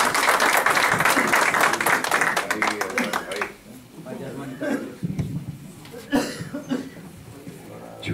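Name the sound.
audience applause for a poet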